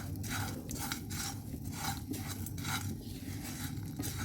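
Whole garam masala spices dry-frying in a pan, with a steady close rasping and rattling as they are stirred and shuffled against the metal, continuous for the whole stretch with no voices.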